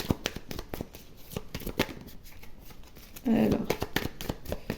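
Oracle cards are shuffled by hand in quick, close riffling bursts while someone talks over them, with a brief louder shuffle near the end.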